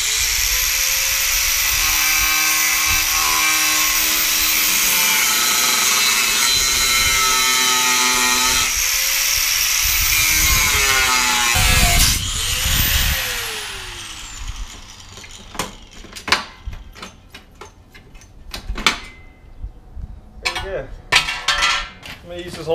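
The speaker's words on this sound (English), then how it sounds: "I gotta get the cutoff wheel and I'll see if I can't ruin the seat" A cutoff wheel grinds through a bench seat for a bucket-seat conversion, a loud sustained whine for about twelve seconds that winds down, followed by sharp clanks and handling knocks.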